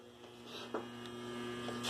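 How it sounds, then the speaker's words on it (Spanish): A 2005 Kenmore 70 Series direct-drive washing machine runs on test on a Heavy Duty cycle, giving a steady electrical hum with a low motor drone and a few faint clicks, alone and at moderate level. "voy a probar la lavadora, como verán cómo funciona"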